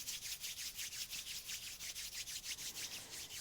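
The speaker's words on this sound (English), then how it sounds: "Hear the sound, the sensations of the palms rubbing." Palms of the hands rubbing together during a yoga session, a steady, rhythmic, close swishing friction of about four strokes per second that carries on without pause and without any voices.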